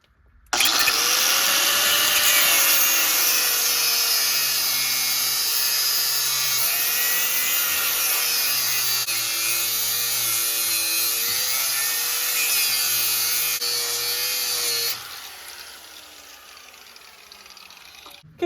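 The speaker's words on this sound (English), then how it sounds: "I do not have the guard on my grinder here" An angle grinder with its guard removed cuts metal on a Nissan Frontier pickup, making a loud, sustained whine whose pitch wavers as the load changes, then drops off sharply near the end.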